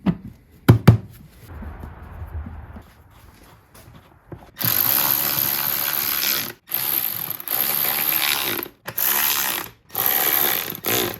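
A ratchet tightens the cover bolts on a 2005 Yamaha R6 motorcycle, giving several bursts of fast metallic clicking separated by short pauses, after a few knocks and handling sounds.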